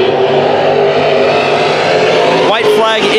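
Race cars roar around an oval track in a heat race, a dense, loud, continuous engine drone with a rising whine as a car sweeps past near the end, and a voice talking over it.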